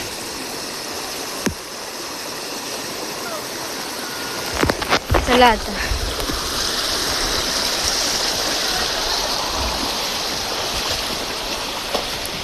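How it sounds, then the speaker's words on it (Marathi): A rain-swollen stream rushing hard after days of heavy rain in a Konkan village, a loud unbroken roar of flowing water with a short burst of speech near the start. "काल वाहायला पाणी सुद्धा खूप जास्त आलंय."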